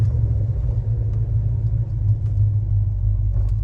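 A 1968 Plymouth Road Runner with a 383 V8 rumbles deep and steady up close, a continuous low engine drone that holds level throughout with slight surges, no voices over it.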